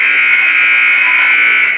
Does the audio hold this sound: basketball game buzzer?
yes